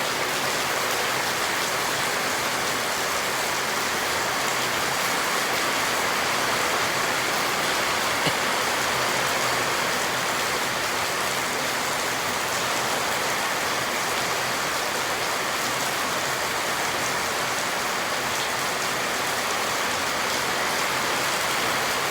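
Pouring rain drums hard and steadily on surfaces nearby, a thick continuous hiss with faint scattered drop patters and no talk throughout.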